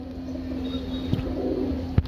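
A black pigeon of a prized breed coos in short, low calls, two soft bursts close by over a steady background hum, with no voices.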